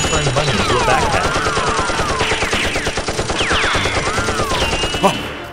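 Nerf blasters fire repeatedly in a staged Nerf war raid, rendered as a loud, continuous rattle of rapid shots with sweeping electronic tones layered over it.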